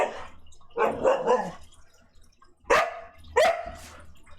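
A dog in the video game Hope's Journey gives a few loud, close barks and woofs in separate bursts, with soft dripping water between them.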